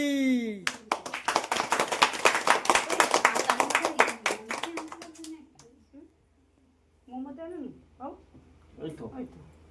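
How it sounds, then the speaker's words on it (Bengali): Several people clap together at a family birthday after a cake is unboxed, a dense burst of hand claps for about five seconds, followed by scattered voices and a child's chatter. "সবাই মিলে হাততালি"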